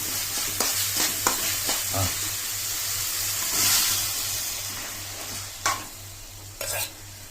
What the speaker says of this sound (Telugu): అంతా ఆయిల్ బయటకు వస్తుంది అప్పుడు బాగా వేగాలి